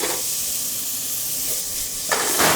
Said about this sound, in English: And then just going to deglaze the bottom of the pan